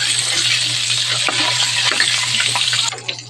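Butter hitting hot cooking oil in a pan, frying garlic-battered bangus steak, gives a loud, steady crackling sizzle throughout, easing slightly near the end.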